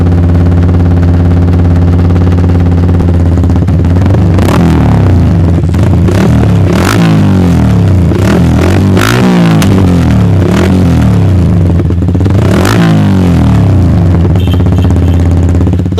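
A Yamaha R15 V3 BS6 motorcycle fitted with a full aftermarket exhaust rumbles loudly up close, its heavy, bassy idle punctuated by a string of sharp throttle blips and revs.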